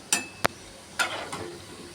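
Kothimbir vadi, Marathi coriander fritters, frying in hot oil, heard as a low sizzle broken by a few sharp clinks and scrapes of a utensil against the pan, close and fairly quiet.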